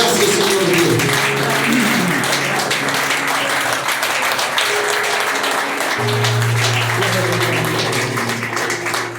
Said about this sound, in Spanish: Fuerte aplauso al Señor Jesucristo